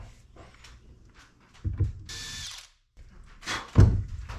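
A power drill with a self-centering drill bit whirs in two short bursts separated by a pause, with quiet knocks and handling noise around them, close by.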